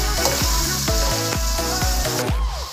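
Masala spice paste sizzles and fries in a pan while being stirred and mixed, with steady loud crackling broken by a regular series of scraping strokes from the spoon.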